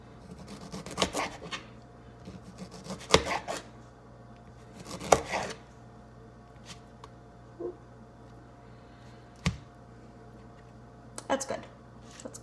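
A knife slices through strawberries on a cutting board, with a handful of sharp, separate cuts spaced several seconds apart and soft background noise between them.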